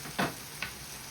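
Tempering spices fry in hot oil with a soft, steady sizzle, broken by two quick scraping stirs in a pan.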